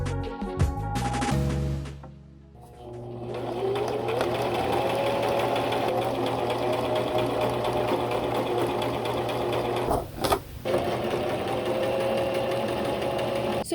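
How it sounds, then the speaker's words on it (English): A sewing machine stitches a pillowcase for a DIY home decor pillow, running in one steady, close whir for most of the stretch after a few brief starts and stops at the beginning. "Now we are ready to go ahead and start sewing."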